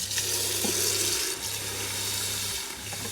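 Warm water runs from a tap into a sink to soak rice noodles, a steady close rushing stream with a low hum underneath, pausing briefly before flowing on.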